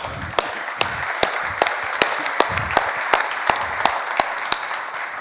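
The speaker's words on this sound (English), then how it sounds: "this performance really deserves a round of applause" Applause from an investor day audience after a corporate presentation: a steady wash of clapping with sharp individual claps standing out at regular intervals, moderately close and continuous for several seconds, with no talking over it.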